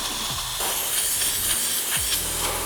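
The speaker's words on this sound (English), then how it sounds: "So steam cleaning does the job effectively." A steam cleaner hisses in sustained bursts while cleaning crevices and door jambs of a car, loud and close, with short pauses and faint rubbing between blasts.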